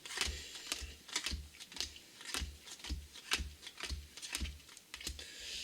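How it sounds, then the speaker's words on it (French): Playing cards cut by hand into small piles during a magic trick, a steady series of crisp, close taps and slaps repeating roughly every half second over a low thumping background, with no talking. "le magicien demande encore au spectateur de couper les 2 petits tas en 2 encore"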